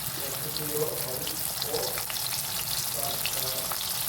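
Okra pods dropped whole into hot oil, a loud, close, continuous frying hiss with bubbling crackle throughout.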